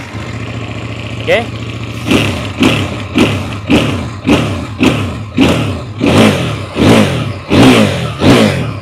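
A CFMoto 800NK two-cylinder, 100 hp motorcycle engine cranks and catches, then is blipped in about ten rhythmic, loud, close revs. A voice speaks one brief word before it starts.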